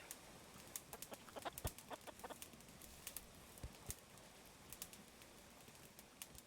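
Chickens in the farming game Clanfolk cluck in scattered, faint bursts, several birds making short irregular calls across a quiet backdrop.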